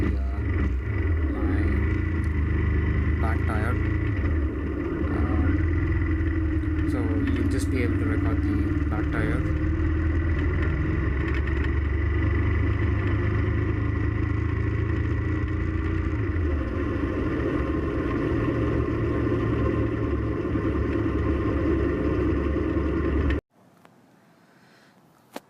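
Motorcycle ride recorded from a camera clamped to the rear crash bar facing the back tire, a loud steady engine drone with wind rumble for over twenty seconds, then it cuts to near silence.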